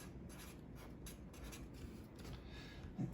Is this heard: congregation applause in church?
no